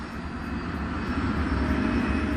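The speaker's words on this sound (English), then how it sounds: "the Soviet nuclear bombers in East Berlin went on alert" Aircraft engines of Soviet nuclear bombers give a steady, loud, low roar that holds unbroken through the whole moment, with no voices.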